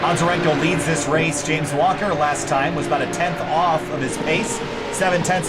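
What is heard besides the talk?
No everyday noises stand out.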